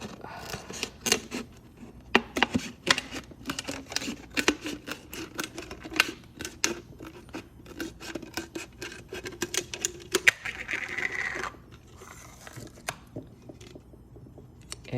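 Plastic bottle having its bottom trimmed off with a cutting tool, a close run of irregular crisp snips and crackles of plastic for about ten seconds, then quieter handling.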